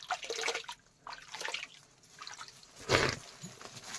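Water drips and splashes inside an old stone step-well (naula) at Lakhanpur fort, with a few irregular drops echoing close by and a louder splash near the end, and no talk over it.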